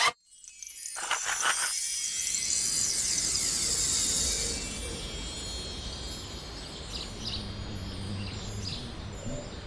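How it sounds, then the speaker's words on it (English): An outdoor scene with a soft breeze hissing steadily and birds chirping in short bright bursts, a higher chiming twitter early on and fainter calls later; bee buzzing is not distinct. "There's a soft breeze and some bees buzzing around. There are birds singing too."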